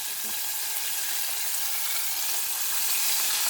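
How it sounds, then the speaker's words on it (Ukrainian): Continuous crackling sizzle of chicken strips frying in hot oil, steady and close, with no voices. "Поки тут смажиться"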